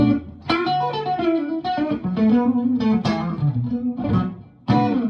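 Electric guitar with Strat-style single-coil pickups, played on the neck pickup through an effects unit, strummed chords and sustained notes ringing loud and clear in a few separate attacks, with no talk.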